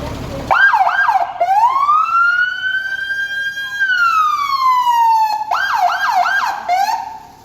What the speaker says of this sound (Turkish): Bak siren.